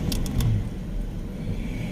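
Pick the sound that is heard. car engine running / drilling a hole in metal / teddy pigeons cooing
car engine running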